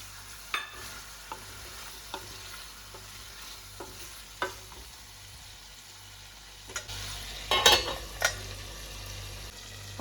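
Chicken sizzles in one pan with onions and spices while a spoon stirs it: a constant quiet frying hiss, broken by intermittent scraping strokes and a louder burst of stirring near the end, with no voice.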